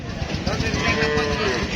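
A cow of an Australian breed lets out a single drawn-out moo, close by, over faint background chatter and noise at a cattle market.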